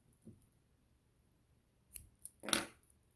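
Scissors snip through yarn while crocheting avocado earrings, one soft click and then a sharper double snip near the end, close and fairly quiet against a silent background.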